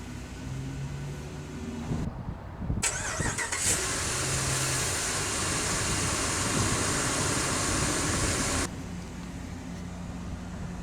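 A 2007 Dodge Ram 1500 Laramie Quad Cab with a 5.7 Hemi V8 cranks briefly and fires up, settling into a loud, steady idle heard from inside the cab before the sound drops back.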